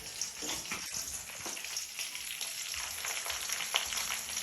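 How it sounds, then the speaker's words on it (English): Fish fries in a pan with a soft, continuous sizzle and small crackles. It is faint and heard from a distance in the background. "So you may hear some sizzling in the background."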